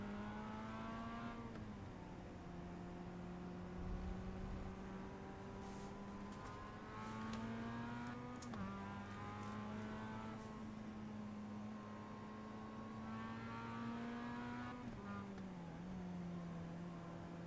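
A Mazda MX-5 with a sequential gearbox laps the Okayama race track, its engine droning steadily from inside the car, with pitch rising and dipping through shifts and braking across the run.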